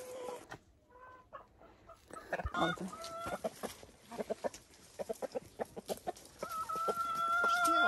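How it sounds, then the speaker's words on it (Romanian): A rooster in a rural farm garden clucks in a series of sharp, close calls, then breaks into a longer crowing call near the end, with a voice speaking briefly early on. "Asta este cocoș tip cățel."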